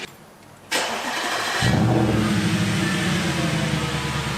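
An Audi S5 V8 engine with a modified exhaust cranks and catches, then settles into a loud, deep, rumbling idle from a throaty exhaust, close by.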